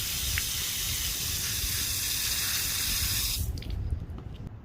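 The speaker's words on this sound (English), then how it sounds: "try rinsing out the MP Rotator spray nozzle" Water sprays and splashes steadily as a Hunter MP Rotator spray nozzle is rinsed, loud and close, then cuts off near the end, leaving a faint trickle.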